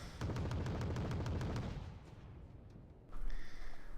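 Wargame battle audio: a rapid rattle of automatic gunfire and artillery cracks fills the first two seconds, fades to a low rumble, then a sharp missile launch or impact bursts in near the end.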